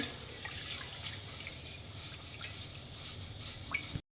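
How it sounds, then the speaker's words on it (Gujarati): Tap water runs and splashes as green mung beans are rinsed in a pressure cooker pot. The rushing is continuous, with small drips and stirring swishes, and no voices. "આ રીતે આપણે એને 2 થી 3 પાણીથી આપણે ધોઈ લેવાના છે."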